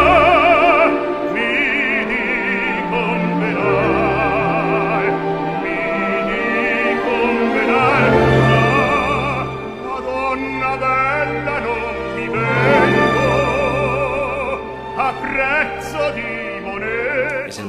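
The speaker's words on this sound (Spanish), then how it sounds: "Tenemos motivo para el amor lujurioso de Scarpia." Orchestral passage from Puccini's opera Tosca carrying Scarpia's lustful love motif, with sustained strings and brass swelling and ebbing in full, continuous sound throughout, no voices over it.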